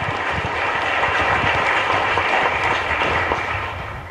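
A church congregation at Mass in a chapel breaks into strong, dense applause that holds steady for several seconds and then begins to fade near the end.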